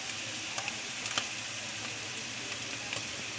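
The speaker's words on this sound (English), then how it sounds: "From here, we can add back our ham already." Ham added back to a hot pan for creamy chicken carbonara, sizzling steadily with soft crackles and a few light utensil taps, close and without talk.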